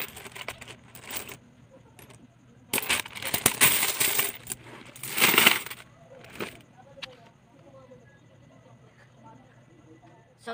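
Piles of small coins for a savings challenge clink and rattle as they are counted and dropped, in bursts of jingling with quiet gaps between, close by.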